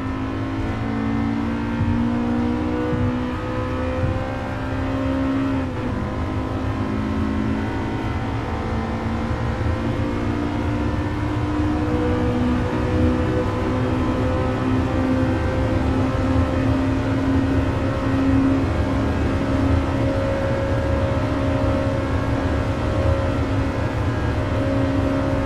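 A car with manual transmission drives in Gran Turismo Sport, its engine droning steadily and loudly throughout, the pitch climbing and dropping through gear changes with no talking.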